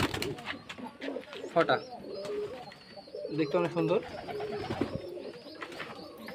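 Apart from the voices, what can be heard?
pigeons cooing at a pigeon farm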